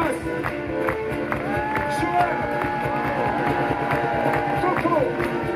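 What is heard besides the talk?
audience applause for sound engineers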